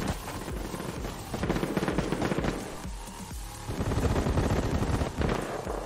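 Sustained gunfire in the mobile shooter Battle Prime, dense loud automatic bursts running almost continuously with brief dips.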